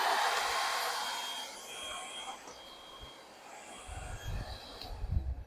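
A lightweight bagless corded vacuum cleaner whirs steadily with a high-pitched motor whine that fades gradually. Low knocks and handling bumps follow near the end.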